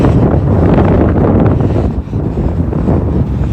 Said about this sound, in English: so the wind is blowing right into my ears, making my ears hurt.